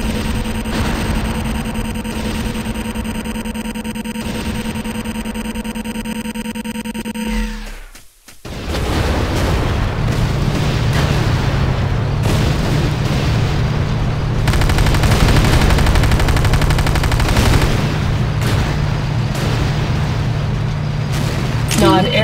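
Heavy gunfire and booming blasts hit a Nod airstrip in the Renegade video game. The barrage runs loud and dense, breaks for a brief silent gap partway through, then resumes as a sustained rumble of fire with voices underneath.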